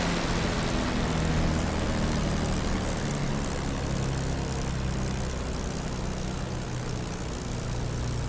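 A P-51 Mustang's piston engine in DCS World throttled back to 1200 RPM, a steady, continuous drone with a low rumbling hum that holds even and loud throughout, with no talking.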